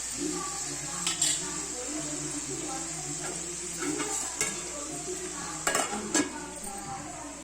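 Bitter gourd and tomato curry being stirred in a pot, with scraping spoon strokes and a few sharp metal clinks over a low simmering sizzle, close and fairly loud.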